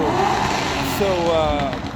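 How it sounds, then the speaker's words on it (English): A loud car passes close by, its engine roar steady and strong for about two seconds before easing slightly, while people talk over it. "This car was so loud I lost my train of thought."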